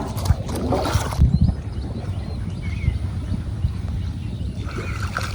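A wooden village boat glides through water, giving a steady low wash and rumble with some wind buffeting, plus a few louder knocks near the start.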